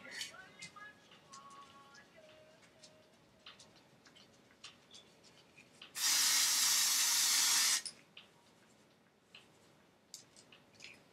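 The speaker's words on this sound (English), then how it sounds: "And then I get my favorite hairspray in the whole world." A hairspray can sprays onto hair in one continuous loud hiss lasting about two seconds, with soft handling clicks and taps before and after.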